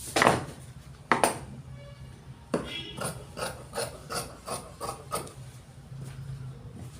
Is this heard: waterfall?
no